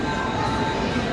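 A Thomas and Friends ride-on train carrying children, a steady low rumble of the moving train with faint squealing tones, continuous and fairly close for about a second.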